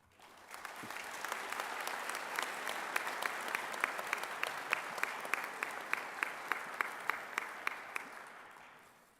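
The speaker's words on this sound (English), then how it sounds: "for that, you all deserve applause" An audience at a medical school white coat ceremony gives a full round of applause that swells and holds steady, with a few sharp, evenly spaced claps standing out near the microphone before fading.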